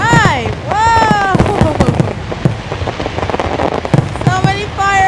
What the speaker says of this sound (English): Wow, look at all those fireworks!